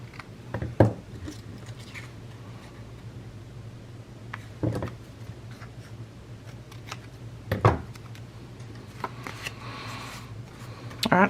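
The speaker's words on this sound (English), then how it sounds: "Then we'll cut this into a tag shape." Scissors cutting a book page into a tag shape, a few separate crisp snips and paper rustles spaced several seconds apart over a low hum, close by and with no talking.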